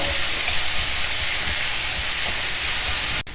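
Chopped onion, capsicum, carrot and curry leaves stir-fried together in a pan, a loud, steady close sizzle with a brief dip near the end.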